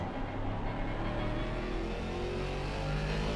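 A steady, droning Aston Martin race car engine in a racing video game at Laguna Seca hums at a constant pitch, a sustained mechanical whir with faint tonal bands, no voices.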